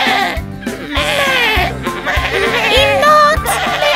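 Sheep bleating in a cartoon village scene for children, several wavering bleats rising over bouncy background music with a steady beat, fairly loud and close.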